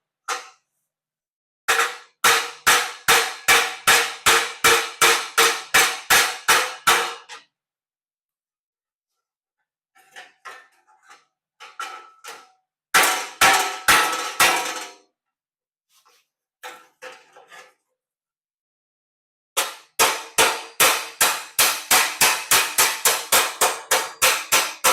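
Bursts of sharp, rapid hammer blows ring on a metal part clamped in a vise while working in the engine compartment of an all-wheel-drive 1962 Ford Falcon, with quiet pauses between the loud volleys.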